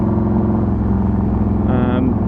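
Harley-Davidson Softail Deluxe cruising on the road behind a Memphis Shades slim windshield, a steady loud low engine rumble mixed with wind noise, with someone talking over it.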